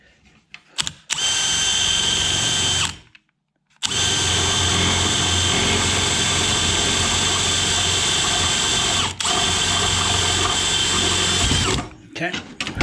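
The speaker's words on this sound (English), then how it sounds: "I drill a hole with this one." Power drill boring a hole during an upgrade on a Skeeter bass boat, two long loud continuous whining runs separated by a short pause, with brief stops and handling noise near the start and end.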